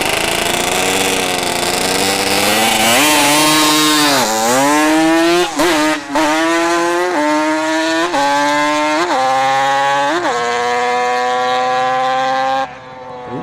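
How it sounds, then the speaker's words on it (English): A dirt bike fitted with a Banshee engine makes a loud, high-revving pass at a drag strip, its pitch repeatedly climbing and dropping through gear shifts, close and dominant with no talk. "The dirt bike coming back. The Banshee motor, maybe?"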